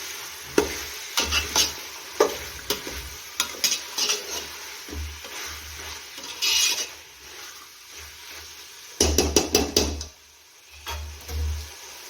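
Mixed vegetable paneer pulao stirred in a pan, a spoon scraping and clattering in bursts of repeated strokes over a faint sizzle, with quieter pauses between.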